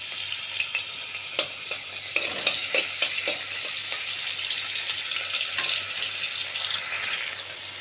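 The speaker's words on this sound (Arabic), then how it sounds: "هنزل كده بفص الثوم." Garlic clove frying in a spoonful of ghee, a steady broadband sizzle with a few sharp spoon stirs and taps against the pan, close and continuous, no voices.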